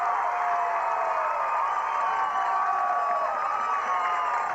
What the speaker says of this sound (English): Freeport fans cheering for their defense